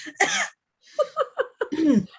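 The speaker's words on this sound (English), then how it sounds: "Coughing now." A few short, close coughs in quick succession after a brief throat sound, loud and dry.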